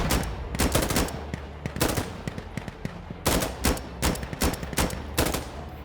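Rapid bursts of gunfire from the video game Insurgency: Sandstorm, loud and close, with sharp shots fired in clusters and short gaps between them.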